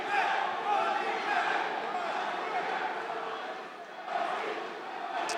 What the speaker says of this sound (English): you can hear Here the love we go. from this crowd chanting already before the match even began